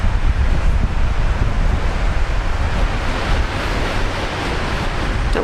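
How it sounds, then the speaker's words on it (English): Strong wind roars at Brisbane Airport as a constant loud, broadband buffeting that sweeps across the microphone without a break. "The wind is picking up."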